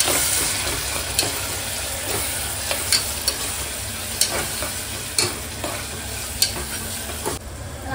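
Mutton frying for biryani is stirred in a pan over medium-low heat, a steady close sizzle with occasional scraping clicks of the spoon, no voices.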